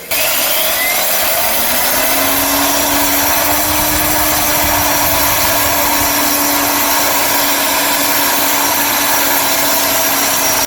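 A Golden Bullet RSB7000 ring saw cuts through rebar-reinforced concrete with a loud, close, unbroken grinding roar and high whine that holds steady for the whole stretch, with no voices.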